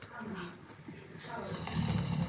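A cartoon snore, Pinkerton's replaced with a Numberblock 79 snore, plays as low rumbling breaths mixed with voices, fairly loud and continuous across the short span.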